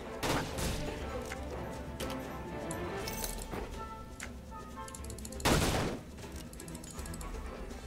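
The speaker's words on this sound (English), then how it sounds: "I love how you just shoot treasure box for them to open." Gunfire from a gunner character shooting at a treasure box in the MMO AION, with repeated sharp bursts and clinks spread across several seconds over game background sound.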